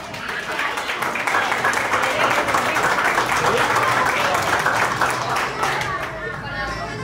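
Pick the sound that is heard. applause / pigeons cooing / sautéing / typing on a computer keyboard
applause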